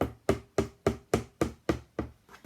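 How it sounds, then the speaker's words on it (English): A spoon taps gently on a cardboard box, making about nine soft, evenly spaced hollow knocks in a steady rhythm, close and quiet with nothing else heard. "if you hit very gently with your spoon,"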